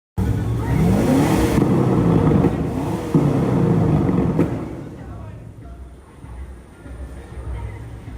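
Cars rev hard in a small gas station parking lot car show with flamethrower exhausts, loud rising engine sweeps and roaring bursts up close, then fading into murmuring crowd voices.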